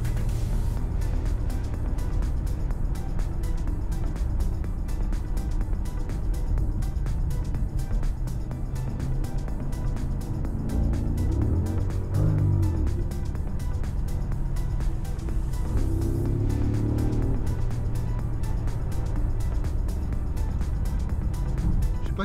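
An Audi S8 with the 5.2 V10 accelerates on a road test after an ABS unit repair and bleed, a loud steady engine drone from inside the cabin that rises and falls through gear changes over constant road roar.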